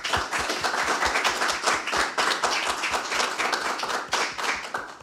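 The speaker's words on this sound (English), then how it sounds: "Please give a round of applause for Dave Richardson." Audience applause at a community conversation event on peace officers, steady dense clapping with distinct individual claps standing out, sustained for several seconds without speech.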